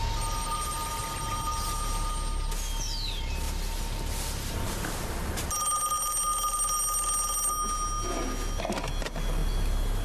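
A telephone rings in a movie scene, an electronic warbling tone that repeats over ambient room noise, growing more prominent in the second half.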